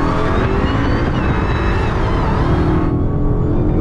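A BMW F82 M4 spins its wheels during a run in Mexico, giving a loud, continuous engine roar and tire noise with rising and falling whine tones, close to the microphone and with no speech.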